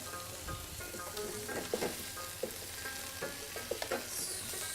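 Curry sauce sizzling in a pan while being stirred, a dense continuous fry with brief scraping and tapping of the utensil rising above it, fairly quiet and without speech.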